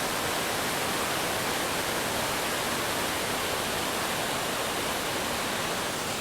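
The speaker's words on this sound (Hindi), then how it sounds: "यहाँ देखिए कितने ज़बरदस्त फ्लो में बह रहा है ये झरना।" A waterfall at a Konkan Railway station, swollen after heavy rain, gives a steady, dense rushing roar that stays even and close throughout, with no voices.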